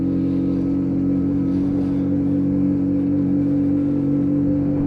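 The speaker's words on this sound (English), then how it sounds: "just shifting down the gearbox, use the engine braking" Lexmoto Hunter 50cc motorbike engine braking while shifting down through the gears, a steady loud droning engine hum close by with no one talking.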